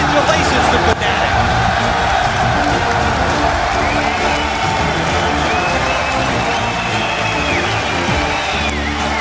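The home crowd at the Zenith in Paris cheers and whoops after a Fnatic win at a 2014 League of Legends All-Star esports event, a loud, sustained roar with a commentator talking over it.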